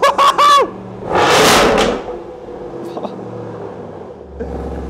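A Land Rover Defender engine revs up hard through the exhaust in a loud burst, then settles to a low idle rumble, with people talking nearby.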